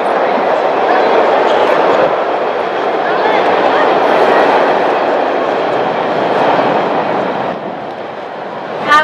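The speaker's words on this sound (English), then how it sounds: "I'm going to let the train go by." A train rolls past during an outdoor graduation speech, a steady broad rumble and roar holding loud for most of the span before easing off near the end.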